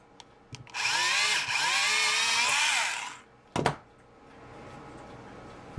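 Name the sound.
power drill drilling a pilot hole in a model ship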